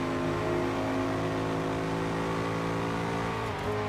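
Bugatti engine racing in Forza Horizon 2, a loud, sustained high-revving roar held steady for several seconds before a brief shift near the end, with no talking.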